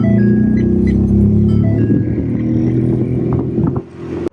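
Inside a Ford F150 pickup, a faulty AC blend door makes a loud, steady low vibrating hum and rumble that drones for several seconds before dipping briefly near the end.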